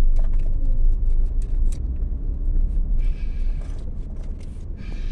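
Slow traffic queues at a road concreting repair on AW Syahranie in Samarinda, a steady near rumble of engines and vehicles with occasional brighter hiss and clatter, continuous without voices.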